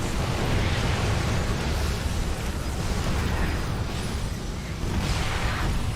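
StarCraft II siege tanks shelling stalkers in a video game battle: a dense, loud, continuous roar of overlapping blasts and booms that holds steady for the whole stretch.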